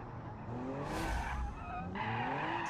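Car tires skid and squeal through a snap oversteer in the BeamNG.drive driving game, a Toyota Supra-style car sliding through a corner; a sustained screech rises and falls over a quiet engine hum, with no talking.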